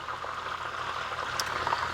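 Steady bubbling sizzle of chicken wings frying in hot wagyu beef tallow, a constant crackling hiss with occasional small pops, fairly close and no talking.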